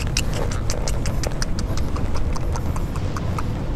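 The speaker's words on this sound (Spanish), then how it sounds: "Aquí cejaría yo mi caballo." Horse hooves clopping on hard ground in quick, steady beats as the rider backs the horse, close and clear with no talk.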